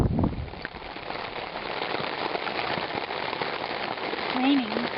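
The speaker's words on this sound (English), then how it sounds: "It's raining." Steady rain falling on a hiking trail near a lake, a dense, even hiss of drops hitting the ground and surfaces, with a faint brief sound near the end.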